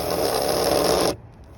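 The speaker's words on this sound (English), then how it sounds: "use a piece of sandpaper and run the trigger and rub the wheels on the sandpaper" Carrera 1/32 digital slot car tires spun by the car's motor against sandpaper make a steady, loud, harsh rasp for about a second before cutting off abruptly into near silence.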